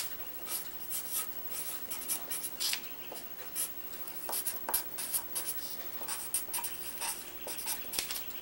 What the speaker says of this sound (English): I'm writing a hate letter to Mrs.